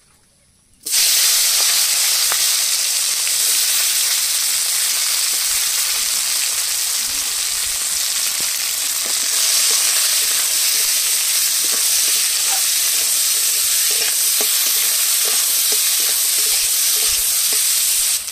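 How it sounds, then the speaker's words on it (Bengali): Chopped onion and tomato dropped into oil left from frying tilapia, bursting into a loud, dense, continuous sizzle that starts abruptly and holds steady, close up, with faint stirring clicks. "এবার মাছ ভাজা তেলের মধ্যে দিয়ে দেবো পেঁয়াজ কুচি আর টমেটো"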